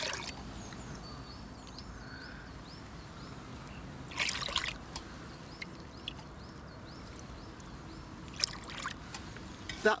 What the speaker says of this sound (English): it takes a damn sight longer for the water to filter through the debris